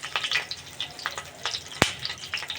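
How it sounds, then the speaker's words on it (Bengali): A bay leaf and whole garam masala sizzle in hot oil for a chicken curry, with soft crackles and pops and one sharp loud snap near the end. "এবার আমি ওই তেলে দিব একটা তেজপাতা, গোটা গরম মশলা,"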